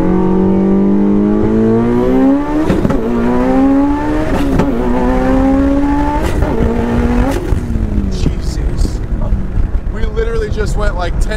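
A 1,000-horsepower Mitsubishi Evo X accelerates hard from inside the cabin. The loud engine note climbs sharply again and again, broken by a series of quick gear shifts, with wind and road roar underneath.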